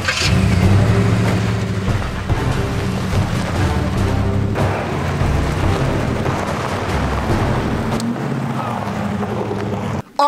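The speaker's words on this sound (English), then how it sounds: "Bilu, start up your engine." A truck engine starts and revs at low speed, a loud, continuous rumbling drone with a surge at the start and a sudden cut near the end, heard close with no talking over it.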